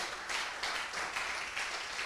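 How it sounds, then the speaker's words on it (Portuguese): Dense clapping from a church congregation standing to applaud, steady and moderately loud across the short stretch. "se coloque de pé, aplaude o nome do Senhor"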